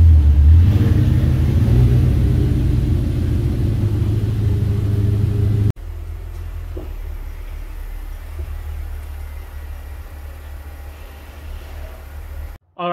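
A 2010 Audi B8 S4 Quattro rumbles at low speed as it pulls into a garage, its engine a loud, steady close drone that shifts tone partway through before cutting off abruptly.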